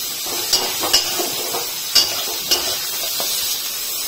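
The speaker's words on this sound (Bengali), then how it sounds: "দিয়ে এবার সব জিনিস একসাথে ভালোভাবে মিক্স করব, আর একটু ভালো করে ভেজে নেব।" Vegetables and onion stir-fried in a pan for vegetable upama: a steady close hiss of sizzling with several sharp spatula scrapes and clinks against the pan.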